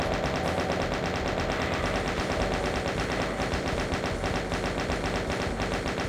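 A chain gun fires nonstop in Voxel Doom 2, a rapid, steady, loud rattle of shots that continues unbroken throughout.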